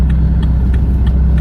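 A car idles low and steady while reversing into a parking bay, a loud, even rumble with faint periodic ticks repeating about every third of a second.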